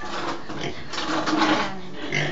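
Rough, continuous pig grunting and snorting, close and fairly loud, with broadband texture throughout and no clear talking.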